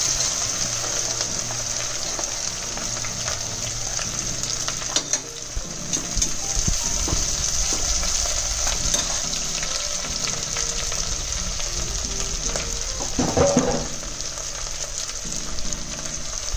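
Three onions frying in a pan for corn biryani give a steady, close sizzle that runs throughout, with occasional light clatter from the pan and no talking.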